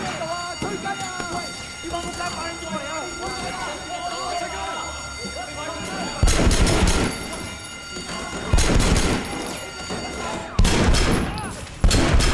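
Gunfire in the open-world game Sleeping Dogs cracks out in several loud bursts after about six seconds, over game music and a siren-like tone, with people talking throughout.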